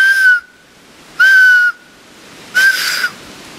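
Three shrill, sustained blasts from a whistle made from a .308 rifle shell, blown at a hunting camp; each blast lasts about half a second, is loud and close, and is separated by short pauses.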